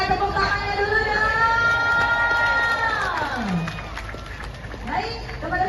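Crowd cheering and clapping at an outdoor creative gymnastics competition in Bandar Lampung, a loud steady roar that carries on under an amplified announcer's voice, then eases slightly before swelling again.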